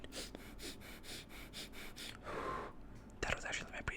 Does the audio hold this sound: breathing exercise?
yes